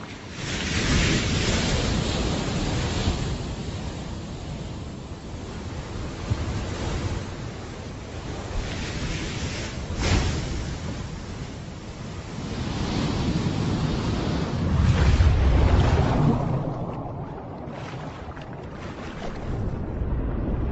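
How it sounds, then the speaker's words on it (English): Stormy ocean waves batter a lone sailor's boat at sea, a loud surging roar of wind and water that swells and crashes repeatedly, with heavy low rumbling peaks as big waves break. "He's alone, and the ocean is battering him."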